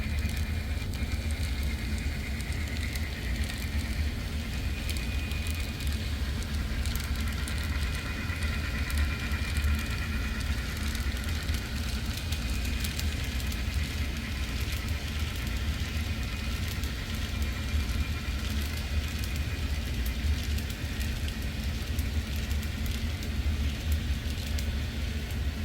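An Illinois Central Gulf freight train rolls steadily along the main track near Granite City Steel and Wood River, giving a continuous low rumble with a faint high squeal and no voices.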